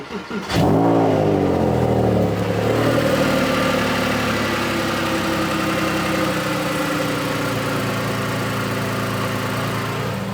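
A Porsche 911 (997.1) Carrera S engine starts with a sharp crank and rev, then settles into a loud, rumbling idle close by.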